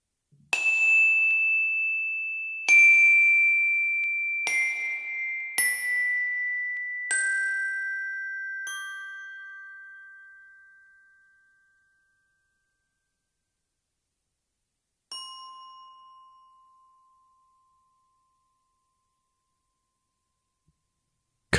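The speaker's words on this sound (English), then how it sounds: "When you hear the sound of the chimes, focus your attention on the final chime as it decays to silence." Meditation chimes ring out in a descending run of bright, bell-like strikes, each tone overlapping and lingering, then fading to silence before one lower final chime sounds alone and slowly decays away.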